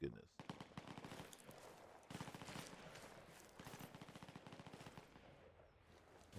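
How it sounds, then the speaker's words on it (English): Gunfire in the video game Fallout 4 rattles in rapid bursts, dense repeated shots that are faint overall and continue for several seconds. "I hear gunshots."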